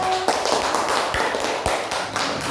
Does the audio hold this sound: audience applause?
yes